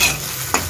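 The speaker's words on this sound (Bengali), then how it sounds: "আমার ডিমটা ভাজা হয়ে এসেছে" Egg frying in a pan for egg chilli: a short burst of loud sizzling with a spatula scraping and stirring once near the end, close up.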